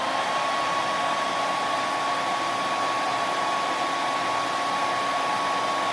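A hair dryer or heat gun blows heat onto a model kit portrait, a constant loud whooshing whine with a steady tone that holds unchanged from start to finish, no talk.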